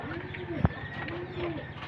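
A pet dove, a white-and-black bird, gives repeated soft cooing calls at close range, two rounded coos with a brief sharp knock between them.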